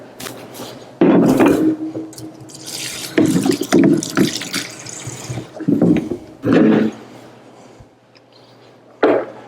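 Cool water runs from a tap into a salad spinner holding lettuce, in uneven splashing bursts with quiet pauses between them.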